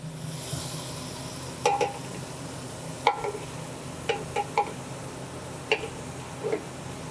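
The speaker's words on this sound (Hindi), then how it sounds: "अब हमने मेथी को भून लेना है।" Fenugreek leaves fry with softened tomatoes in a pan, giving a low, steady sizzle broken by scattered clicks and scrapes of stirring.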